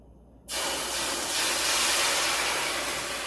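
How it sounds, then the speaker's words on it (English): A loud, steady sizzle bursts in suddenly after a short quiet moment and keeps hissing strongly as fajita ingredients hit a hot pan with water or vegetable broth instead of oil. "you can hear that it is sizzling hot, so we know that it's ready"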